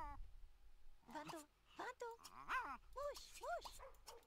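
A small old puppy in The Sims 2 gives a string of short yips, whimpers and barks, close and fairly faint, spread in separate bursts across a few seconds.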